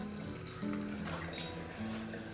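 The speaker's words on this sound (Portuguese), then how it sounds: "A torneira, olha como sai assim, de cima. É com sensor, né?" Water runs steadily from a sensor-activated faucet that pours from above in a restaurant restroom, a continuous rushing stream heard close by with no talking.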